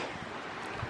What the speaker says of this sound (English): Ooh, it's so windy.